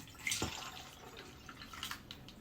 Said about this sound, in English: is I pour it in my jar.